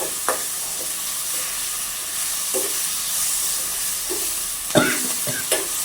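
Tomatoes with onion and green chilli being mashed and stirred in a frying pan, a steady sizzle under scraping strokes, with a few sharper clacks of the spoon near the end.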